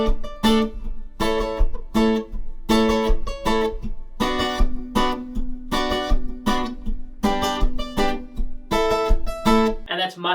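A guitar strums a song part using open chords with two extra notes added in place of barre chords, giving a steady series of ringing chord strums played alone for about ten seconds.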